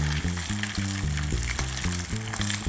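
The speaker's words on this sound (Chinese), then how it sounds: "皮会先帮你煎到擦擦" Pacific saury skin pan-frying for a braised saury dish with plum, giving a steady, close sizzle with rhythmic pulsing beneath it and no talk.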